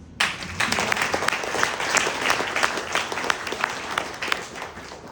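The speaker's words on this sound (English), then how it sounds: "Can we clap for them?" An audience at a gala dinner in New York bursts into steady applause, many hands clapping together in a dense, lively patter that carries on throughout.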